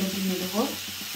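Turmeric added to hot oil for a vegetable chop, a short steady sizzle with a faint murmur of speech over it.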